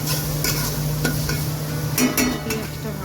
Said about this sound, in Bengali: দিয়ে এটাকে ভালো করে ভেজে নেব পেঁয়াজটাকে।